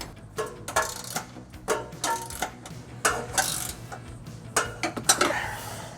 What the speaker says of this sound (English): I'm going to tighten these snug using a 19mm wrench.